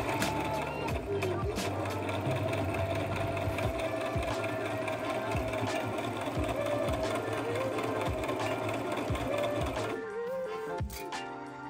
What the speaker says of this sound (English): right now I'm sewing down my front and my back together